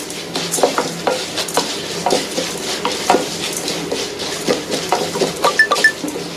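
Broken pieces of sesame balls fry in hot oil, giving a steady sizzle with scattered stirring scrapes and light clinks of a utensil against the pan.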